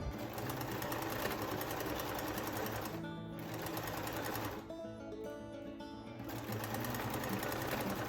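A sewing machine runs stitching the side seams of a dress, a fast steady mechanical whir with a brief slowdown and pause midway before resuming, close and continuous with no talk.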